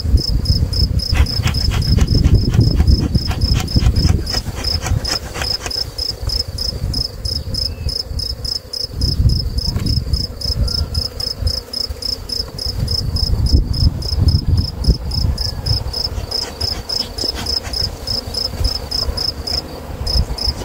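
Honeybees swarm around an opened hive during an April inspection by a beekeeper, making a steady, dense buzzing hum that runs throughout alongside a constant high insect drone, with no talk.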